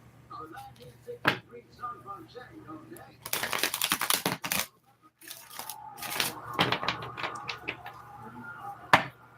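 Bursts of rapid riffling tarot card shuffles, two main flurries of dense crackling, with soft background voices and small clicks between.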